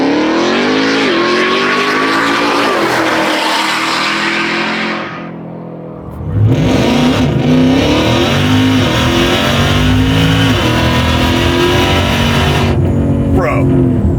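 A 1,300-horsepower custom widebody Dodge TRX truck on 38-inch wheels roars close and loud under acceleration, pitch rising, then cuts out briefly before surging hard again, with occasional voices over the engine.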